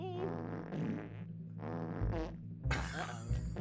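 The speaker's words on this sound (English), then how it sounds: "It's a lot of farting." Cartoonish farting in the video game Conker's Bad Fur Day, several drawn-out, pitch-wobbling blasts in quick succession, loud and close, with music underneath.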